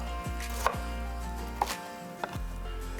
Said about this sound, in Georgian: ეს კიდე უფრო წვრილად დავჭრათ